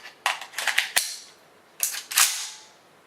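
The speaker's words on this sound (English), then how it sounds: "as soon as you release the mag and put a new mag in" A fresh magazine is seated in a PSL-54C rifle and the action catches: a few close, sharp metallic clicks followed by two louder, ringing snaps.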